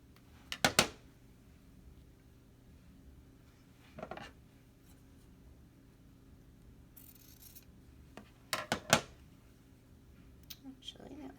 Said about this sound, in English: just using a sharp pair of scissors.